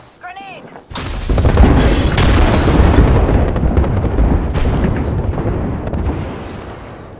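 A grenade blows up in Apex Legends. After a brief quiet moment it erupts loud and close, then trails off in a long rumbling, crackling tail.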